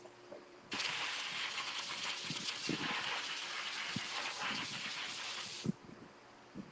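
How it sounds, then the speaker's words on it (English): A can of WD-40 lubricant sprays in one steady, close hiss lasting about five seconds, with a few faint workshop knocks before and after. "Hold on, let me spray this down."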